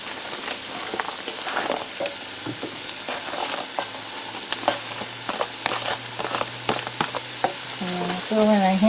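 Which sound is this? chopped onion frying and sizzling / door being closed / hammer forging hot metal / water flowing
chopped onion frying and sizzling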